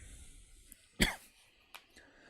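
A single sharp cough from a congested, sick man bursts out once, fairly close, with faint breaths and quiet room noise around it and no talking.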